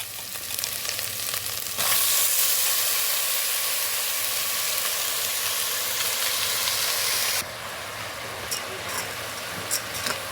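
Soaked basmati rice hits hot fat in a rice cooker while making bagara rice and is stirred; a loud, dense sizzle bursts in, holds steady for several seconds, then drops back to a softer hiss with light stirring clinks.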